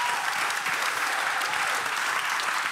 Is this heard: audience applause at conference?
yes